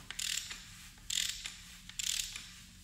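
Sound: Toyota 1GR-FE engine being turned over by hand

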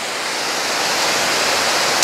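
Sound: waterfall at a state park

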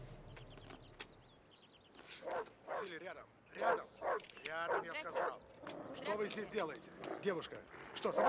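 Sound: dog barking

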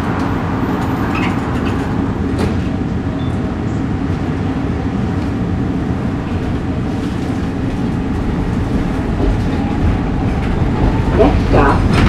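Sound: M4 1062 Market-Frankford Line train running

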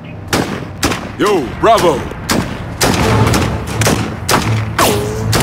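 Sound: gunfire in a video game

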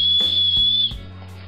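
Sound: small whistle on backpack chest strap buckle

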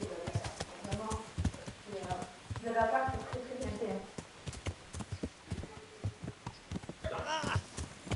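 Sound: horse hooves clip-clop in Kingdom Come: Deliverance video game

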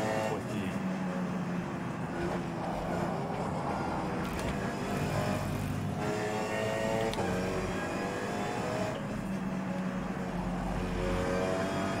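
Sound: racing cars from a video game

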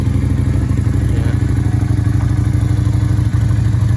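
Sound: Lifan LF250 V16 motorcycle engine starting and running

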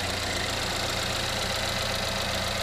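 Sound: 2.4 liter Ecotec car engine idling

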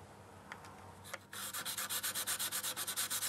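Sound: sanding a carbon fibre glider wing area

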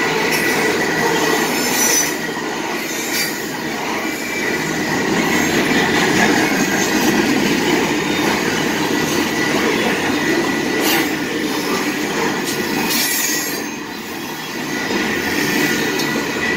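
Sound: freight grain train passing

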